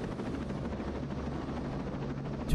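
A continuous low helicopter rotor drone in Tom Clancy's Ghost Recon Breakpoint hums steadily throughout, with a sudden louder bump at the very end.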